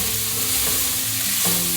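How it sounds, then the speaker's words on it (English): Peppers and onions seasoned with paprika frying in a pan, with a steady loud sizzle and the soft scrape of a spoon stirring through the vegetables. "and I will give it a stir"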